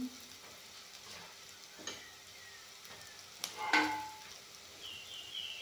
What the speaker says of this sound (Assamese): এতিয়া ৰাজমাহ, নহৰু, মটৰখিনি ধুনীয়াকৈ ইয়াতে দি দিম।